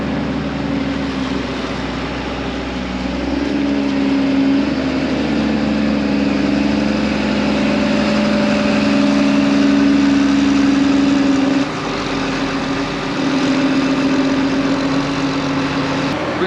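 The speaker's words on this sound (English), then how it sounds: "Got the feed wagon standing there. It's mixing right now." A farm feed wagon mixes while a loader's engine runs nearby, giving a steady, loud, close diesel drone with a low mechanical hum and no break.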